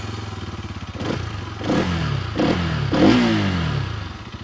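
A 2024 Bajaj Pulsar NS200 motorcycle engine idles with a steady low putter, then is blipped through several quick revs that rise and fall, close by.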